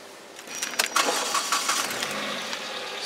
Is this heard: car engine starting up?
yes